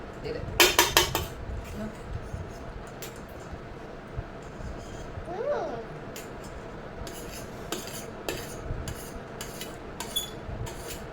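Forks clink and scrape against plates as a mother and daughter eat chow mein, with a cluster of sharp clatters early, then sparse, quieter taps and rubs spread across the rest.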